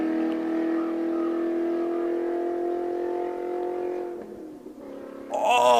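A car with a W8 engine revs in a steady, loud, sustained drone that holds for about four seconds, then drops off briefly before a sharp rise in revs at the end.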